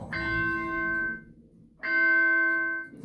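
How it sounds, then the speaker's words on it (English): Large bells ringing out with long, sustained harmonic tones in two separate strikes, the first fading into a brief near-silence before the second peal sounds, fairly close and clear with no voices. "That sounds like medieval bells."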